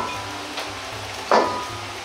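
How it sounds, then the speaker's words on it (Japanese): Green peppers and onions hit hot oil for kung pao chicken, giving a low steady sizzle that flares into a sharp, loud hiss midway before settling back. "20秒ぐらいしたらピーマンと玉ねぎを入れ、5秒を揚げます。"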